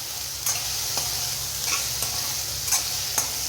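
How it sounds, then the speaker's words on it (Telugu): A spoon stirs bottle gourd chutney in a pan just after tamarind goes in, a soft continuous sizzle broken by several sharp scrapes and taps against the pan at irregular intervals. "వేసుకొని ఒకసారి మరలా కలుపుకోవాలండి"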